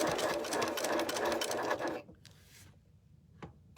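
A sewing machine runs fast and loud, stitching along the edge of a serged seam on jean fabric, then stops abruptly, leaving near silence broken by a few faint clicks.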